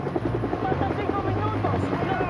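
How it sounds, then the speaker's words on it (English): A Colombian Army helicopter flies with a continuous, loud rotor thrum and engine whine, while a narrator speaks over it. "Moments later, the search block deployed in a Colombian Army helicopter."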